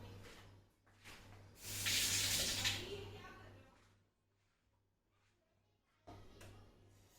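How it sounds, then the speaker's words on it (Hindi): Hot herbal tea of black pepper and ginger is strained from a pan into a cup, a soft splashing pour that swells for a couple of seconds and then trails off, with small kitchen clatters before and after. "कप में छान लूंगी।"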